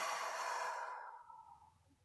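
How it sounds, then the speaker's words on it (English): A single slow, deep exhale of breath, close and airy, fading out over about two seconds in a quiet room. "take a deep breath with me"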